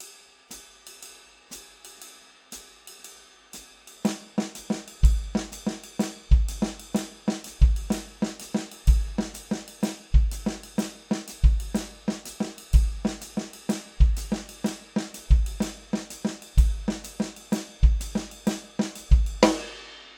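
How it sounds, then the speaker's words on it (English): A drum kit plays a quarter-note triplet pattern on snare, kick and cymbal, with steady, loud, evenly spaced hits. It starts sparse, then locks into a repeating groove of booming kicks under bright cymbal wash for about fifteen seconds, with no talking. "And with the cymbal pattern, exercise 3 sounds like this."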